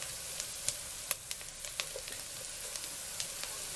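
Garlic and onion fry in a pot, a steady broadband sizzle crackling throughout with small scattered pops, close and even in level, with no voices.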